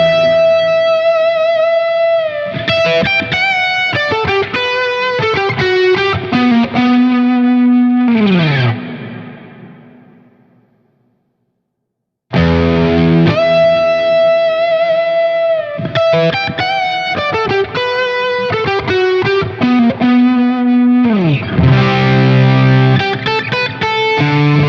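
Fender Squier Silver Sky SE electric guitar with rosewood fretboard, bridge pickup with its tone control rolled back, playing a distorted, effected riff that rings out and fades to silence, then starts again loud and close.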